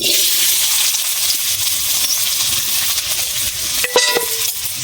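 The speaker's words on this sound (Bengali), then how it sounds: "তেল গরম হয়ে গেছে, আলু দিয়ে দিচ্ছি।" Potatoes fry in hot oil in a wok, giving a loud, steady broadband hiss with a brief clatter near the end, with no voices.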